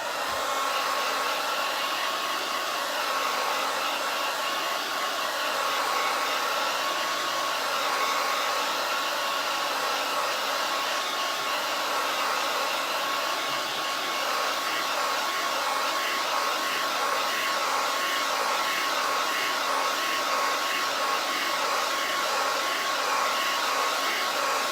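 A hair dryer blows steadily on chalk paste for a Chalk Couture project, giving a loud, unbroken whir that holds an even pitch the whole time with no talking.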